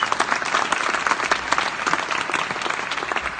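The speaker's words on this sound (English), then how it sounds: "Round of applause for those guys, please." Audience applause at a football team press conference, dense and continuous clapping from a crowd, moderately loud and sustained throughout with no one speaking.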